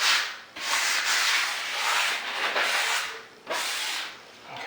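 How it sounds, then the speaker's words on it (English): A wall being hand-sanded while new crown molding is prepared for painting: steady, close scratchy rubbing strokes in repeated back-and-forth passes, with brief pauses between them. "I'm just going to sand the wall"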